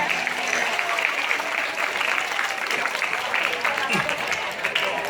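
Steady applause from an audience, dense continuous clapping that fills the whole stretch at even loudness, with a faint murmur underneath.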